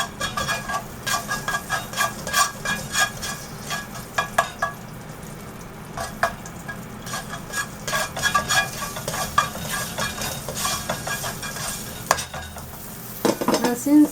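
Onion, garlic and grated ginger browning in a pan for butter chicken, with a steady sizzle under frequent close scraping strokes of a stirring spoon, a brief quieter lull midway, then brisk stirring again.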